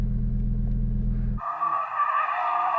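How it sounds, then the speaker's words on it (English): An off-road Lamborghini or Porsche 911 Dakar drifts around a tree, deep engine rumble giving way to a loud, sustained tire squeal close by, no talking. "Sam just wants to go and have a little bit of a victory drift round a tree."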